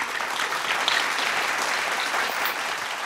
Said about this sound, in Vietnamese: Hãy dành một tràng vỗ tay thật lớn.